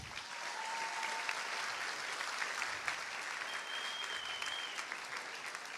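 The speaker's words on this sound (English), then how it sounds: "Can I have a round of applause for the band one more time?" An audience at a school graduation ceremony in Qatar applauds the band, a dense, sustained wash of clapping that holds steady throughout with a faint tone drifting over it.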